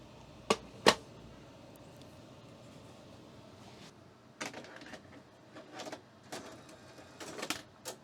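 An HDCAM tape loads into a Sony tape machine: two sharp clunks up front, a pause, then a run of mechanical whirs, clicks and rattles as the transport threads the tape.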